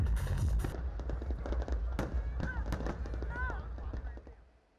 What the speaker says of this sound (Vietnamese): Ngay sau chương trình nghệ thuật là màn trình diễn pháo hoa tầm cao kéo dài 15 phút